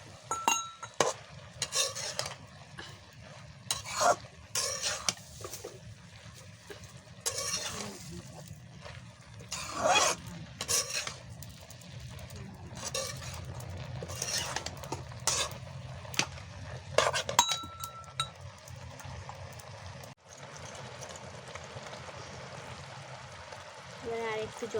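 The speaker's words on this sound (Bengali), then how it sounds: "এবারে আমি নাড়াচাড়া করে নিচ্ছি একটু" A spoon scrapes and clatters in a pan of Bengali banana flower and prawn curry cooked with crushed green chilli, giving irregular near stirring knocks over a soft simmer, with a little background talk.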